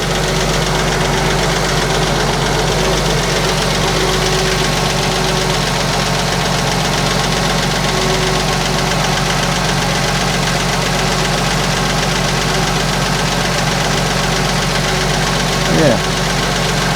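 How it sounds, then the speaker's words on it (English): A Porsche Boxster S 986 engine idles steadily and close by with a slight clattering, ticking note running through its even hum, and no voices over it. "A bit clattering. I wonder if that is the chain."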